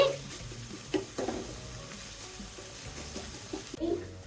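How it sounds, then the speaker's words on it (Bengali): Onions sautéing in a pan with oil and cumin paste, giving a low, steady sizzle broken by a few stirring scrapes and clinks, close and moderately quiet with no talking. "তেল বাটা জিরা বাটা পেঁয়াজগুলো একটু কষিয়ে নিচ্ছি"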